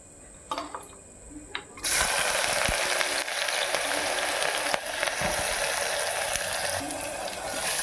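Chopped onions dropped into hot oil in a pan for a pepper chicken gravy: after a few soft clinks, a sudden loud, hissing sizzle that stays steady and close for several seconds.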